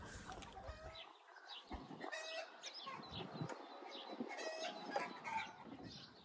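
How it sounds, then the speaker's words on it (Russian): Birds singing outdoors at a countryside garden plot in May, with chirps and short trills scattered across a few seconds at moderate distance, alongside faint clucking and cooing from nearby farm birds. "Птички поют."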